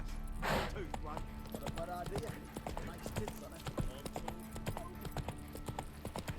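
Roach, a horse in The Witcher 3, trotting: a steady, close clip-clop of hooves runs throughout in an even rhythm, with a voice speaking over it and a brief burst of noise near the start.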